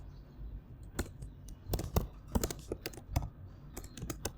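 Java code is typed on a computer keyboard: sharp, irregular keystroke clicks, sometimes single and sometimes in quick clusters, close and crisp over a quiet background, with no talking.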